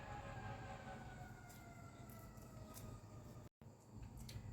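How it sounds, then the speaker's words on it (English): A siren wails steadily in the background over a low rumble of traffic or train noise, with a brief dropout near the end. "oh, there's a siren"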